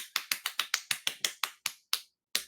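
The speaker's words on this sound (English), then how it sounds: "That was me slapping my thigh." About a dozen sharp, crisp slaps on a thigh in a quick steady rhythm, then a brief pause before one final slap.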